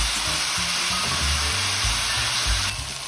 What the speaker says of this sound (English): So I'm going to add the peppers. I'm still on a high heat.